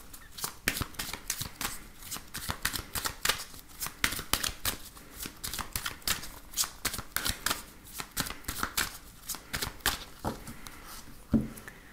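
Tarot and oracle cards are shuffled close up in a rapid run of crisp riffling slaps and flutters, repeating in quick bursts with no talking.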